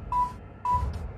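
A telephone in the horror game Amnesia: Killings In Altstadt rings in two short electronic trills, each a clear tone with a buzzy edge, close and fairly quiet.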